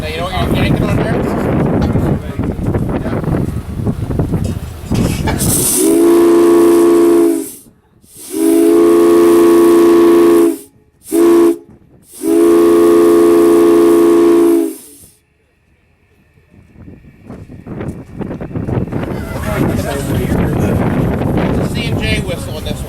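Steam locomotive 611 blows its whistle in three long, loud blasts with short gaps, the chord ringing over a hissing steam and rail background before and after as the engine passes close by.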